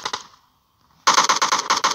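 Gunfire in the battle royale game PUBG: a short burst of shots, a brief pause, then a sustained rapid automatic volley of sharp, loud cracks.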